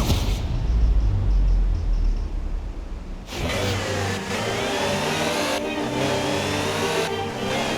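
Engine of a Land Rover Series III utility truck in Forza Horizon 4, idling low and rumbling, then revving up sharply around three seconds in and holding a loud, steady, gritty drone with small throttle shifts.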